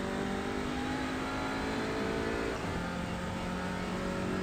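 A steady race car engine whine from a sim racing video game played on an Oculus Quest 2 hums continuously at moderate volume, with a slight pitch shift midway and no talking.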